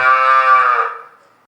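A single loud cow moo, close and sustained for about a second before trailing off, with no other sounds around it.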